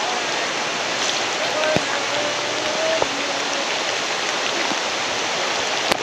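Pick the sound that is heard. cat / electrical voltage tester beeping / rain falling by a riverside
rain falling by a riverside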